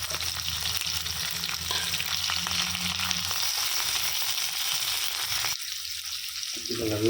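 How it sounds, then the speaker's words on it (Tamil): Two large chopped onions sizzle steadily in a hot pan up close while being sautéed for chicken thokku, with occasional stirring scrapes, before the sizzle briefly drops away near the end. "இதை நல்லா பொன்னிறம் மாறுற வரைக்கும் நல்லா வதக்கிக்கலாம்"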